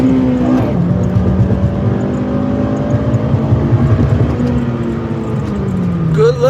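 A car engine revs up close while racing on the road, its pitch climbing and holding, with another vehicle passing alongside near the end.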